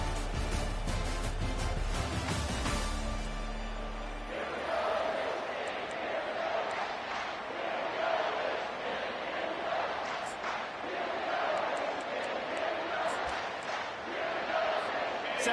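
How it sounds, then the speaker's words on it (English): Stadium crowd in EA NCAA College Football 25, a loud continuous roar and chant that swells and ebbs, following a brief burst of band music at the start, with voices mixed in. "there's all this crowd noise"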